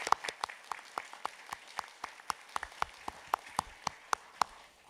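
An audience at a university engineering and IT graduation ceremony claps for the graduates, sparse individual claps ringing out in a quick, uneven patter, fairly distant and moderately quiet in a large hall.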